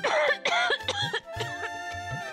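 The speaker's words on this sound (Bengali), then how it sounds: "যদি আমার এই মরণ কাশি একটু কমে" A character in a Bengali TV drama, after smoking a homemade bay-leaf bidi, coughs in a rapid run of harsh, throaty hacks, close and loud, with no talk over them.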